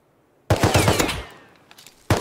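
Machine gun fire in the Rust survival game: a loud close burst of rapid shots that rings out and fades, then a second burst starts at the end.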